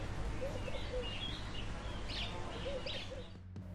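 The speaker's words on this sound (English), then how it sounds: "Soft breeze, birds chirping, lake and trees nearby." Small birds chirp and tweet faintly at a distance over a steady low outdoor rumble like wind, with no one speaking.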